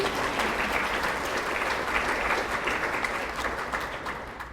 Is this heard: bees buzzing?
no